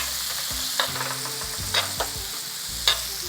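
Peppercorn steaks frying in a hot pan with butter being spooned over them, a constant bright sizzle punctuated by a few crisp clinks of the basting spoon against the pan.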